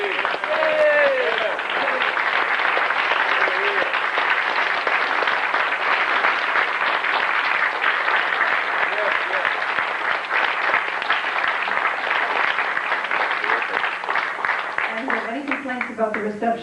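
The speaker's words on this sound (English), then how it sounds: "I hope that all of you would give him a round of applause, which he so roundly deserves." Guests at a 1996 wedding reception applaud in a long, sustained round of clapping that holds steady for over fifteen seconds, with voices murmuring underneath.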